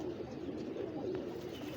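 A Kaldumaa pigeon with a white beak and deep blue eyes coos in a low, steady, continuous murmur, close by and with no voices over it.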